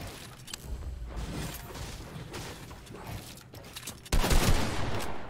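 Gunfire in a Fortnite arena box fight, a run of rapid shots and mechanical clatter at moderate level, then a louder burst of blasts near the end, with no talking.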